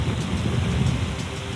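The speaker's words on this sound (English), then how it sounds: "It don't rain like this in Manchester." Heavy tropical downpour on an island, a dense continuous roar of rain that is loud and close and fills the whole stretch, with no talking over it.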